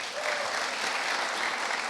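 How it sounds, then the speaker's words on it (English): Audience applause for volunteers serving on teams at an evening church event, a steady, dense wash of clapping that holds evenly throughout without any voices. "Give them a round of applause."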